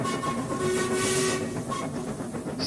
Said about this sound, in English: All too often, his focus was broken by his own whistle.